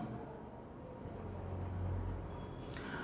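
Someone writing on a board during a definite integration maths lesson: faint, continuous scratching strokes over a low steady room hum.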